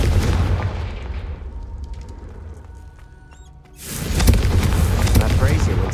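Confringo spell explosion in Hogwarts Legacy, a loud burst that erupts after a quieter stretch and then rumbles on, close and heavy, with game effects around it.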